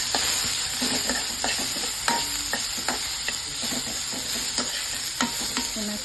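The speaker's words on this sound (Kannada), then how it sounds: "ಚೆನ್ನಾಗಿ ಫ್ರೈ ಮಾಡ್ಕೊಳ್ಳಿ." Onions frying in a hot pan with kasuri methi, cooked for potato Manchurian: a steady bright sizzle, close and loud, broken by irregular clicks and scrapes of a spatula stirring, with no voices.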